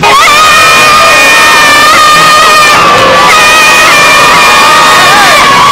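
A dense Mardi Gras street crowd cheers, whoops and shouts continuously, many high voices overlapping in a loud, sustained roar of celebration.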